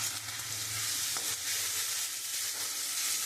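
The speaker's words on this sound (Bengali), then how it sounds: "মশলাটা আমি একটু ভালো করে কষিয়ে নেব" A masala paste of chilli powder, turmeric, cumin powder and salt fries in a pan with a dense, even hiss and a few soft stirring scrapes, steady and close.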